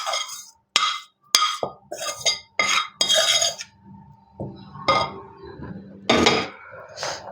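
A metal utensil knocks and clinks against a pot while yakhni chicken pulao is mixed, giving a string of separate close scrapes and clanks with short pauses between them.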